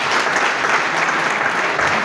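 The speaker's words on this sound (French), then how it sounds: "Veuillons applaudir pour le président." Sustained applause from a crowd, dense steady clapping filling the whole stretch without pause.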